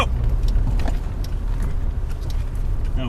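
A pickup truck makes a tight turn, its engine and tires producing a steady, close road rumble with faint rattles and scrapes. No voices are heard over the vehicle noise.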